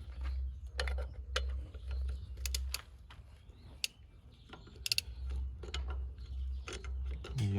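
A wrench works bolts on an MTZ tractor under restoration, giving irregular sharp metallic clicks and ratcheting taps over a low steady hum, with a brief voice now and then.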